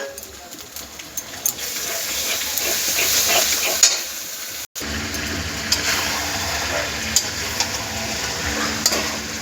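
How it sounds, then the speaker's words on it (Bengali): Chopped onion fries in a pan with chili paste and a garlic, ginger and cumin paste, making a steady sizzle with occasional stirring clinks. There is a brief break midway, and faint talk runs in the background. "পেঁয়াজ কুচি দিচ্ছি, লঙ্কা বাটা, লঙ্কা দেওয়া হচ্ছে, রসুন আদা জিরা বাটা দেওয়া হয়েছে"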